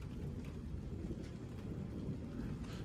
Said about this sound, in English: Yeah, it's raining now.